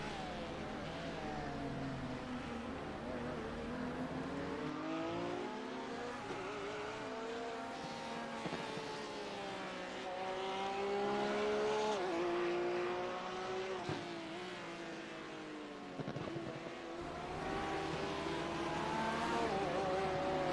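GT3 race cars lapping the Nürburgring GP circuit in a racing video game, engines droning steadily with rising and falling pitch as they shift and accelerate, continuous and moderately loud with no talk.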